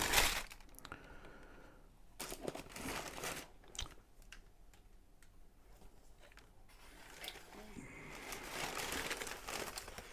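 Wrapping paper from a Nike Air Foamposite One "Galaxy" 2025 shoe box is crinkled and rustled close up in repeated bursts of dry crackling, with no talking.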